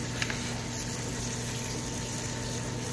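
Water is poured over dry coconut husk to soak it for a worm culture, a steady soft wash of trickling liquid with no break, close by and alone.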